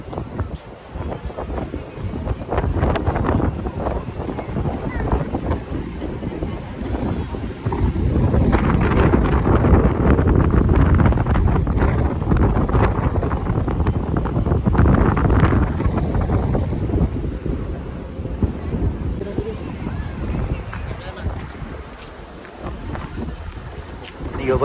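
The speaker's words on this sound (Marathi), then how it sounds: "हवा जाम भारी आहे मंडळी, हवा लई सुटली आहे." Strong wind buffeting the microphone on Devgad beach on the Konkan coast, a loud continuous roar that swells in the middle and eases toward the end, with a voice speaking over it at times.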